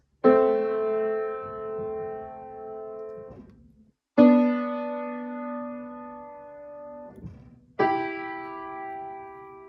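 Three sustained minor-third intervals, both notes struck together sharply and left to ring and fade, with brief gaps between them.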